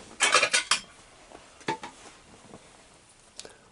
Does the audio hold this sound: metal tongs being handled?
yes